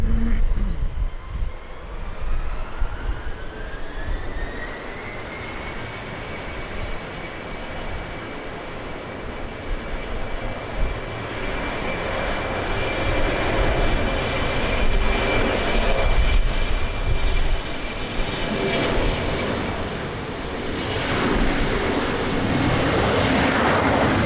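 A fixed-wing airliner takes off from runway 20 at Lisbon Airport in a crosswind, its engines roaring loud and steady with a rising whine that holds throughout.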